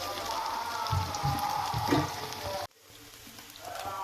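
Sago pakoras deep-fry in a generous amount of hot oil, giving a close, continuous crackling sizzle that cuts off abruptly and returns as a softer hiss.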